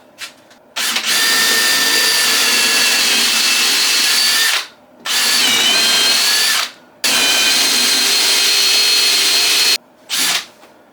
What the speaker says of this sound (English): So let's put some holes down through that.